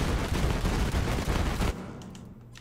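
The Lead Sprinkler assault rifle firing in a video game. A loud, dense stream of rapid automatic fire lasts nearly two seconds, then cuts off into a quieter tail.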